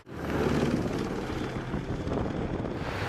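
An Australian AH-64E Apache attack helicopter gives a steady, broad roar of rotor and engine noise with some wind buffeting. There is no speech.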